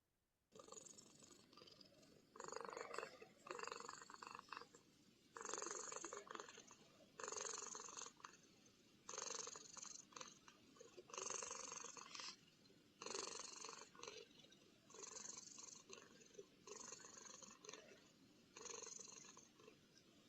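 A cat purrs softly and close by in a slow, steady rhythm of about ten drawn-out breaths, each rasping purr separated by short quiet gaps, with nothing else heard.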